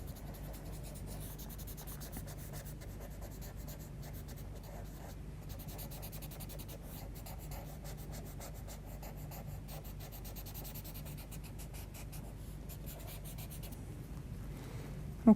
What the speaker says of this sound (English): we'll use the paper stump and just blend that in a bit